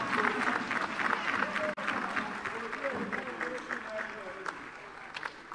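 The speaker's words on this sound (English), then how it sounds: "Another hand of applause to the Honourable Chairperson." Members of the Malawi Parliament applaud the Honourable Chairperson with loud, sustained clapping from a crowd, which breaks off once partway through and then thins toward the end, with faint talk mixed in.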